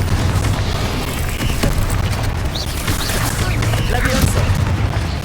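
Blasting spell explosions in the wizarding action game Hogwarts Legacy, dense booming bursts and crackling blasts over a constant low roar, loud and continuous, with game voices underneath.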